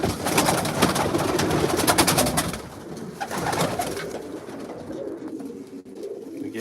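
Racing pigeons coo steadily inside a loft, a dense layer of soft throaty calls that is fuller at first and then thins to scattered coos with light rustling.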